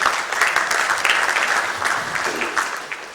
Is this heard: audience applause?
yes